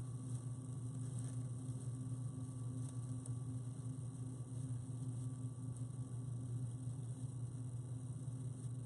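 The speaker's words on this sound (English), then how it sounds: "it looks like it's picking up the hum of the air conditioner" A steady electrical air conditioner hum drones at low level throughout a quiet indoor room, even and unbroken with faint tonal whine above it and no one speaking.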